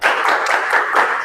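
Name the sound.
class clapping on command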